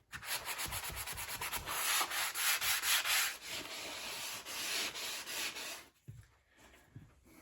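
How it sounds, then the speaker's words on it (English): Steady scratchy rasping of a sanding sponge rubbed back and forth over a wall before painting, close and continuous, stopping near the end with a few soft knocks. "I'm using a sanding sponge."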